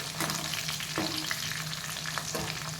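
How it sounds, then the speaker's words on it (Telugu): Bitter gourd seeds fry in a pan over gentle heat, giving a steady close sizzle broken by a few sharp pops and stirring scrapes. "గింజలు టప్పమంటున్నాయి."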